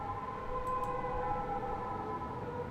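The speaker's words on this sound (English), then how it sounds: "there's sirens in the game" Sirens in the video game Snoot Game, a steady wailing tone held continuously through the clip at moderate loudness over a low background rumble, with no voices.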